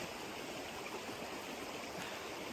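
Mountain river rushing steadily in snowy terrain, a dense close continuous roar of flowing water with no voices.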